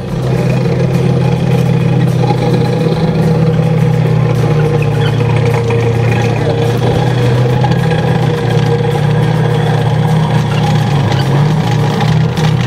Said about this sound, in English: This is running on a radial aircraft engine.